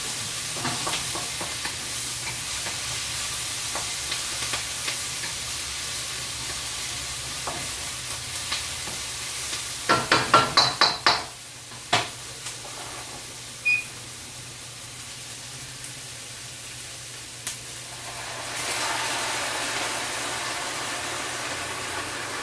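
Onions fry softly in a pan for sweet and sour pork. A utensil scrapes and clatters against the pan in a quick burst of clinks partway through, over a low steady background hum.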